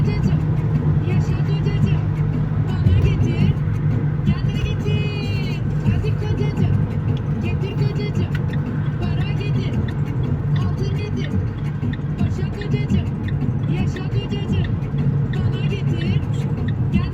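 A car engine pulls and accelerates steadily while driving on the road, a continuous close drone from inside the cabin as people talk over it throughout.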